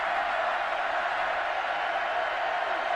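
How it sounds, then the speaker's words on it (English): A football stadium crowd at Oklahoma versus Baylor keeps up a steady, dense roar of cheering that stays loud and even for a few seconds with no break. "Crowd has come alive."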